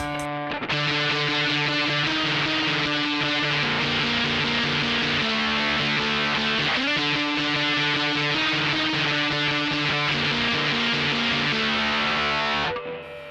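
Near-fuzz guitar tone from Abracadabra and Drive Master pedals stacked together: loud, dense sustained chords played continuously for about twelve seconds, shifting chords midway, then ending abruptly.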